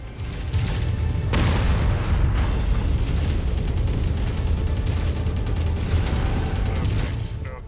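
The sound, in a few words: weapon fire and explosions in MechWarrior 5 video game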